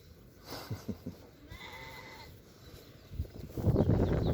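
Sheep and a ram bleating when called for breakfast on a farm: a few short bleats early on, then louder, busier bleating and animal commotion building toward the end.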